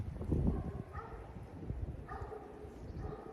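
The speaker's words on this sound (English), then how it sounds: "Tor and Khaleesi are barking their heads off at them." Dogs bark outdoors in a breezy snowy setting at planes passing overhead, a few short yips and barks at moderate distance over steady wind noise, with no talk over them.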